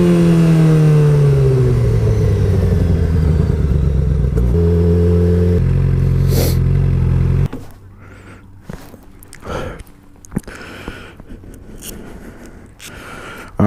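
A motorcycle engine revs loudly with pitch sweeping down and up through gear changes before it cuts off abruptly, leaving quieter clatter and handling noises close by.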